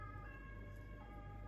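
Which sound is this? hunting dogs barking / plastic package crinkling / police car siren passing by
police car siren passing by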